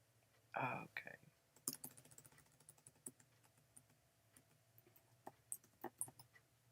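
Computer keyboard typing during a live coffee chat: quiet, irregular key clicks spread throughout, close but soft, after a brief voice at the start.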